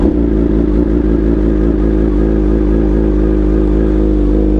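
A 2013 BMW HP4 superbike engine runs steadily and loudly up close, a dense, throbbing mechanical drone with a clattery edge that holds without pause.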